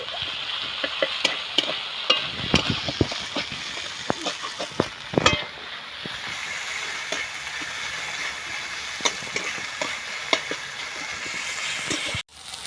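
Stirring fried pona fish with onions, garlic and ginger paste in an oiled frying pan, a steady sizzle broken by irregular scraping and tapping clicks of the spatula, close and unaccompanied by talk.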